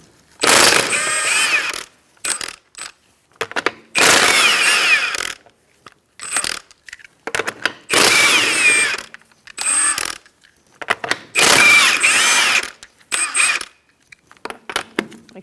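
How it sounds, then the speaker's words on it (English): Lug nuts removed from a 2004-2009 Mazda 3 wheel with a 21mm socket, loud close-up ratcheting bursts repeated about five times, separated by short quiet gaps. "Using a 21mm socket, we're going to take off our lug nuts."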